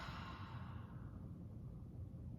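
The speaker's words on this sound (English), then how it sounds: "and a nice, slow breath out." One long, slow exhaled breath during a calm guided breathing exercise, a soft, airy and steady hiss that stays faint and even for the whole stretch with no words.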